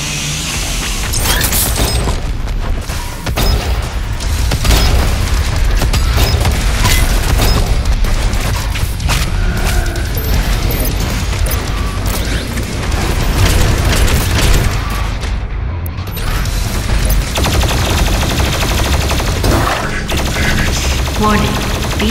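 The BFG 10,000 superweapon firing in DOOM Eternal: heavy, dense booming blasts with mechanical clatter and rumbling explosions, loud and continuous over the whole stretch, layered game effects and a synthetic warning voice.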